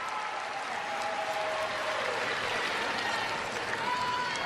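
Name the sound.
crowd applauding in arena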